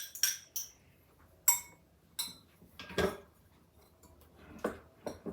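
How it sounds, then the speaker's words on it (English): Brown sugar and Hershey's cocoa being mixed in a bowl, heard as a series of sharp spoon scrapes and clinks against the bowl in irregular bursts, close and fairly quiet. "Mix it together real good."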